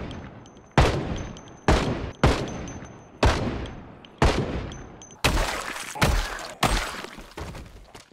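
Rifle gunfire in a survival zombie video game, eight sharp, loud single shots spaced roughly a second apart, each cracking sharply and then decaying, with quicker and harsher blasts toward the end.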